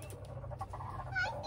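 Laying chickens cluck softly nearby in a short, low-level burst, with a faint rising call near the end over a quiet background hum.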